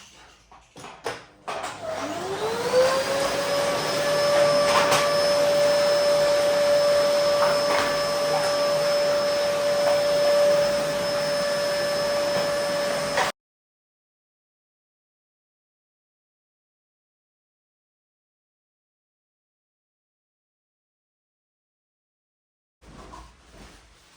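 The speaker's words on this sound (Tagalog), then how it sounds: "So, vacuum na lang tayo" Vacuum cleaner switched on, spinning up to a steady loud whine and hum that runs close for about eleven seconds, then stops abruptly into silence before a faint brief sound returns.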